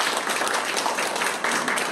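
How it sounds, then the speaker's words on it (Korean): Seminar audience clapping after a presentation on apartment facility maintenance, a dense, steady, fairly loud burst of many hands with no voices over it. "다시 한번 수고의 박수 부탁드리겠습니다"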